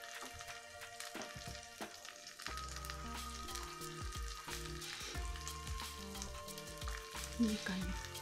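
Steady sizzling as ingredients are sautéed briefly in a hot pan for a yellow-spiced patin fish dish, close and continuous, with some background tones and a brief clatter near the end.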